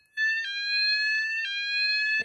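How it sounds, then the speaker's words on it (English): A loud electronic fire alarm sounder test tone, steady and harmonic-rich, sounding continuously with brief pulses of change at regular intervals. "just gonna do a quick sound alarm"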